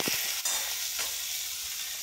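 Tomatoes drop into a hot pan while making soybean kheema, giving a steady close sizzle with a faint clink or stir near the start and no talking.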